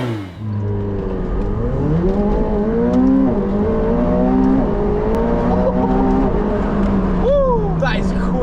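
A McLaren 720S accelerates hard, its engine note climbing loudly through the gears with a brief drop at each shift before it revs up again. The sound is close and heard from inside the car.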